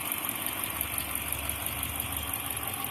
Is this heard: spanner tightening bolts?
no